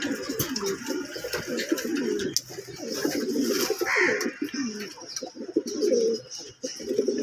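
Pigeons coo in a breeding loft where pairs of baby pigeons are kept, soft repeated low calls mixed with chirps and someone talking over them.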